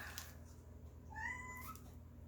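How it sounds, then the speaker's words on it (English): A pet cat meows for attention indoors, a single drawn-out, rising-then-falling meow over a quiet room hum. "the cat's meowing at me because he wants attention"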